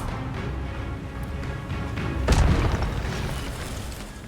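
Expelliarmus disarming spell cast in a Harry Potter video game, a single booming burst midway that stands out over a steady low game background.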